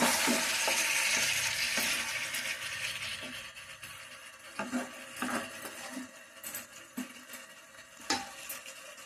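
Chicken frying in a pan on high gas with salt, chili and sour seasoning, sizzling steadily while a spoon stirs it in soft scraping, clinking bursts; close and fairly quiet throughout.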